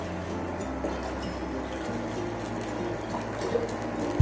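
Water poured into a pot for boiling mushrooms in a home kitchen, a steady rushing, gurgling stream that runs without pause and ends with a small clunk.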